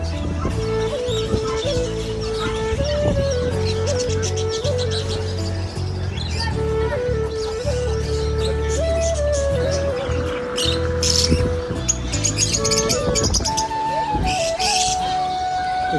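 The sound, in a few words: birds calling at a Dubai animal market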